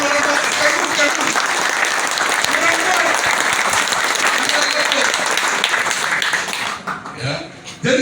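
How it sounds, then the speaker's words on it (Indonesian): Audience clapping at a Batak youth gathering, loud and sustained for several seconds before thinning out near the end, with voices mixed into the crowd noise. "Coba tepuk tangan dulu, tepuk tangan orang Batak"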